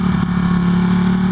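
A Ducati Panigale motorcycle, either a V4 Speciale or an 1199 Tricolore, accelerates hard in first gear on a canyon road. Its engine drones loud and close in a steady, rising buzz that continues throughout without any voices.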